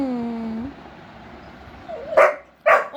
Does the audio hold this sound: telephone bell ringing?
no